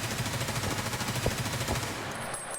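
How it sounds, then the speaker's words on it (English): A standard M4 rifle on full auto in Escape From Tarkov fires a steady, rapid, loud burst of evenly spaced shots for about two seconds, then falls silent. "So we'll put this on full auto. So we'll start with the kind of standard M4"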